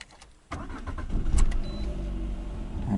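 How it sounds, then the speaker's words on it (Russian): A LADA Granta station wagon engine cranks and catches after a quiet moment, then settles into a steady, close idle with a slight rev. "Вот завел я машину"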